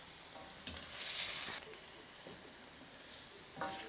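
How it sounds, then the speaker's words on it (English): Chicken sizzles in a pan, a steady close frying hiss with a few sharp crackles and one brief louder surge partway through. "We're simply cooking this chicken until it's slightly soft."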